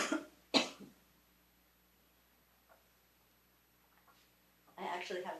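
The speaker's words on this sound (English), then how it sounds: "I knew I might start coughing." Two or three sharp, dry coughs from a woman at a poetry reading, loud and close, separated by near silence, with a burst of throaty noise toward the end.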